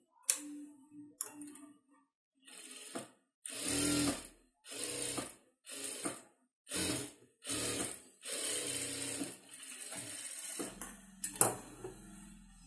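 Sewing machine stitching a sleeve in short, evenly spaced bursts of rapid clatter, close and fairly quiet, with brief gaps between runs and no talking.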